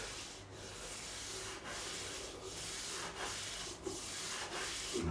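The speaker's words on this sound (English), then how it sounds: "I'm going to put some 240 grit on here, on this side. I'm going to smooth it all off." Steady rasping strokes of 240-grit sandpaper smoothing a wooden bouzouki fretboard during a re-fret, close and continuous with brief rhythmic pauses between passes, no talking.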